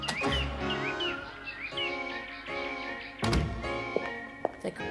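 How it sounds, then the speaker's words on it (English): Bird chirps and tweets woven into a song, several bright rising calls early on over layered music, with a few thuds and knocks later in the mix. "Like birds and stuff too."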